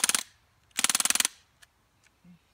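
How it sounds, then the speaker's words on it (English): A BB gun firing full auto: two quick bursts of sharp rapid pops, the second longer at about a dozen shots, loud and close, followed by a few faint clicks. "shooting full auto."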